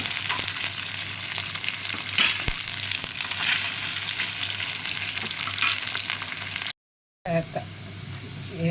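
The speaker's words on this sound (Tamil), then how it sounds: "சேப்பங்கிழங்கு வந்து நல்லா வந்து ரோஸ்ட் ஆகிட்டே வருது." Pieces of taro root roasting in a pan, turned after one side has browned, giving a continuous close crackling sizzle with occasional utensil knocks, a brief cut to silence, then more frying.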